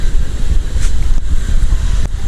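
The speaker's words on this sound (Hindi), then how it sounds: "पानी का शोर आप सुन रहे होंगे" Rushing water beside a hiking trail near Khabeki and Uchhali lakes in Kashmir, a loud, steady roar mixed with gusty wind buffeting the microphone and a few sharp clicks.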